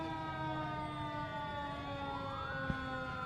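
A fire department chief's brush vehicle sounds its siren during a Veterans Day parade, a loud sustained wail with rising and falling pitch sweeps, heard close and continuous with no talk.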